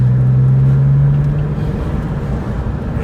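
A 2004 Porsche 911 996 drives along with a loud, droning engine note that holds a steady low tone, then eases into a rougher, fluttering rumble as it shifts through the gears.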